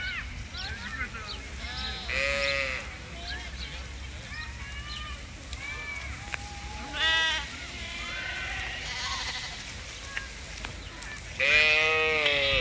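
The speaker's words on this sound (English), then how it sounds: "Are those wild sheep? Do they belong to a farmer?" Sheep bleat in an outdoor park, several loud, wavering calls spread across the scene, some close and some farther off, with someone talking quietly in between.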